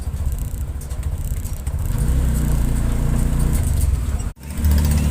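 Cars queue at a petrol station, steady engine idle and road traffic rumble close by, a low continuous hum that thickens midway and is briefly cut before resuming.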